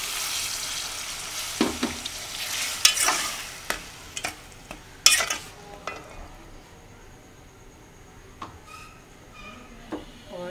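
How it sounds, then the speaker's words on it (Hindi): Spices and masala stirred and frying in a pan for egg chicken biryani, a steady close sizzle broken by sharp scraping stirs and clicks that fade toward a quieter simmer. "और इसको हम अच्छी तरह से फ्राई करके इसमें सारे गर्म मसाले नमक मिर्च वगैरह सब कुछ डाल देंगे"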